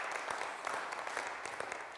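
Audience applause for student winners at a school oratorical competition, a steady patter of many hands clapping with scattered sharper claps throughout, moderately quiet and without talk.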